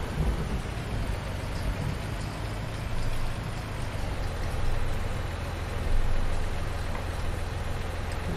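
Steady rain falls in the Farming Simulator 19 video game, a dense, continuous hiss with a low rumble beneath it and no voices.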